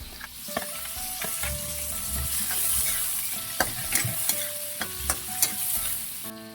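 Garlic, ginger, onion and tomato sauté in a hot pan with chilies, giving a steady close sizzle broken by sharp scrapes and clinks as the mix is stirred.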